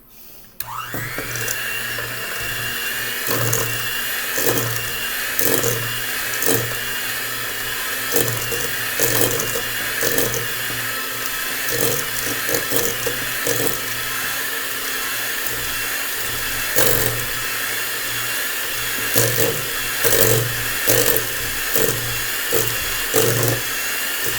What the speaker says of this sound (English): So I'm going to take my hand mixer here and I'm going to mix this together